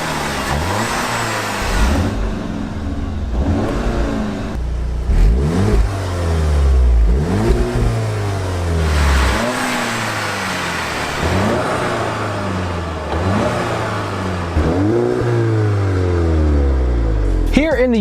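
A Volkswagen Golf R engine and exhaust rev repeatedly, each sharp rise and fall in pitch following quickly on the last, loud and close, with someone talking over parts of it.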